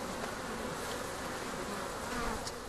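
Swarm of honey bees buzzing close around a beekeeper at hives in Tigray, Ethiopia, a dense, steady, loud hum that fills the whole stretch without pause.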